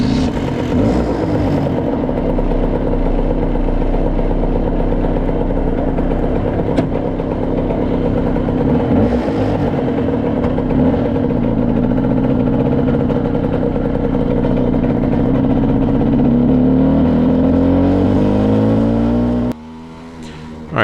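Serveta Jet 200 scooter engine on a test ride, running steadily close by for the whole stretch with a continuous buzzing drone that rises and falls in pitch as the throttle changes, then drops off sharply near the end.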